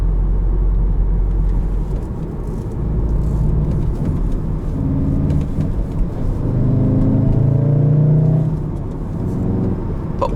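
Manual 2017 Volkswagen Golf R with a turbo engine driving along, a loud steady engine drone and road rumble with rising and falling engine tones as it pulls, no one talking.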